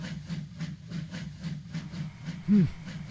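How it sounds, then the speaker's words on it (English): A steam train arriving in a railway yard, with a steady rhythmic chuffing and hissing at a regular pace and a short whistle-like tone near the end, moderate and fairly close with no talking. "Later, Alfred arrived at the yard to collect his train."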